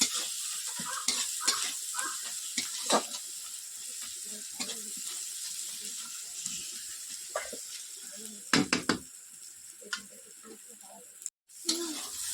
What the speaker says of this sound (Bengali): মশলাটাকে এবার ভালো করে এবার কষে নিতে হবে